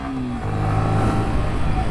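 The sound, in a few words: Yamaha R15 V3 motorcycle accelerating on highway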